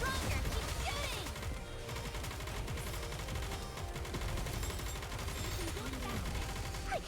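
Dense, continuous gunfire in the video game Goddess of Victory: Nikke, rapid automatic bursts layered with heavy impacts, loud and unbroken throughout.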